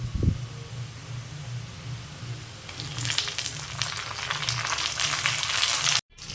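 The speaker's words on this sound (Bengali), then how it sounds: "সব কিছু মিলিয়ে আমি একে বেশ কিছুক্ষণ কম আঁচে রেখে লো টু মিডিয়াম ফ্লেমে রেখে ভেজে নিলাম" Tomatoes and carrots fry in a pan over a low-to-medium flame, a soft steady sizzle that swells louder partway through and runs on alone without talk.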